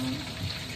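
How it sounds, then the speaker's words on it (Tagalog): Running tap water while hands are washed at a sink: a brief steady splashing hiss, close and even, with no pause. "Maghugas ng kamay."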